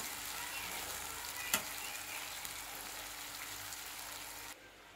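Spice masala for chhana dalna frying in a pan, a steady, moderately quiet sizzle with a single sharp tap near the start, cutting to near quiet just before the end.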